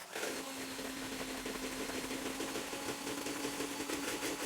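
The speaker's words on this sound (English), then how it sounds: "While continuously whisking, slowly add the caster sugar." An electric whisk beats egg whites with caster sugar for a meringue, running as a steady, loud, whirring motor drone with a constant hum from start to finish.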